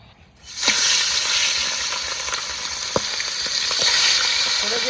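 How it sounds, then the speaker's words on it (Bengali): Fish head from a 6 kg katla sizzles in hot mustard oil, a loud, steady frying hiss that bursts in after a brief quiet start, with occasional sharp pops and crackles. "এবার মাছের মাথাটা ভালো করে ভেজে নেবো।"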